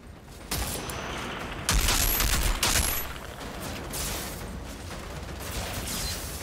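Gunfire from snipers and other shooters in the Outriders video game, a dense run of loud rapid shots and bursts with brief sharper cracks, continuing steadily throughout.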